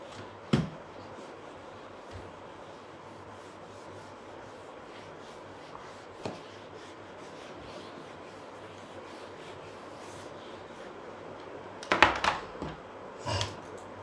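Chalk writing is rubbed off a classroom blackboard with a soft, faint scrubbing hiss, broken by a few light knocks and taps near the end; no one speaks.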